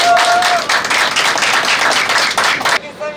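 Close, loud clapping from a small group at a wedding ceremony held aboard a bus, a dense burst of hand claps that ends abruptly after about three seconds.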